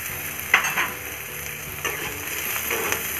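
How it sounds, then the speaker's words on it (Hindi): Onions and finely chopped potatoes frying for upma over medium heat, a steady close sizzle with a few sharp stirring scrapes at irregular intervals, no voices. "अब हम इसे अच्छे से मीडियम आंच पर 3 से 4 मिनट तक गोल्डन ब्राउन होने तक भुनना है।"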